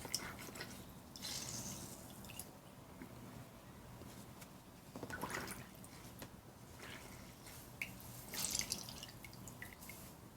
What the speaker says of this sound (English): you want to get your sponge wet first